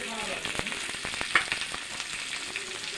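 Chopped ginger, tomato and slit green chillies are stirred and sautéed in a pan, giving a quiet continuous sizzle with a string of light scraping taps from the spoon.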